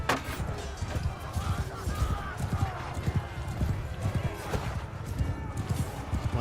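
A horse gallops in the video game Mount and Blade II: Bannerlord, with a quick, rhythmic run of hoof beats and clattering under ongoing gameplay sounds, moderately close, while a voice talks over it.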